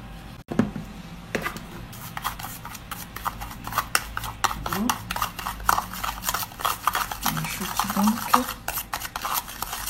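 A spoon stirs honey and water in a bowl, giving quick repeated scraping and tapping strokes. A sharp knock comes near the start, and faint voice sounds surface now and then.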